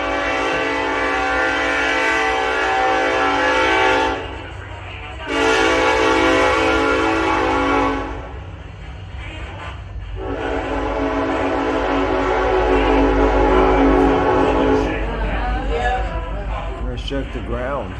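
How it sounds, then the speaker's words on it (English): A freight train passes close by, its loud horn blaring in long sustained blasts with a short break, then a steady rolling rumble of railcars as the horn sounds again near the end. "We probably won't hear anything until that train goes by."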